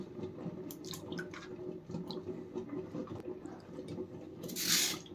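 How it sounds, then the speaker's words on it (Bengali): Cut potato sticks drop into a bowl of water, giving soft splashes and light drips at irregular intervals, quiet and close, ending with a brief brighter slosh. "এই সাইজ করে কেটে আমি দেখেন জলে ডুবিয়ে দিচ্ছি।"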